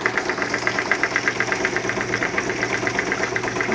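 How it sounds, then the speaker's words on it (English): An RP-4 gold shaker table vibrating, heard as a loud, continuous rattling hum with a fast, steady pulsing rhythm, close up and without speech. "You hear it, it's starting to vibrate."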